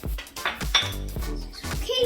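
Fork and knife clinking against a plate while eating eggless cake, several light clicks and scrapes close by, with brief bits of voice in between.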